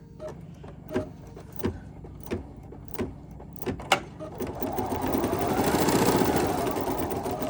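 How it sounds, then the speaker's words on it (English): An embroidery sewing machine stitches a placement outline on a poinsettia trivet, first a series of separate mechanical clunks about once a second, then a rising, steady whirring hum of rapid stitching, close and alone. "the first stitch that's gonna stitch out is just a placement stitch"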